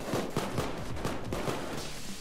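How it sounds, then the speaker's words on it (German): Gunfire in PayDay 2 during a jewelry store heist: a steady run of rapid shots at a medium distance through the whole stretch, in a dense, continuous rattle. "Ah, die schießen!"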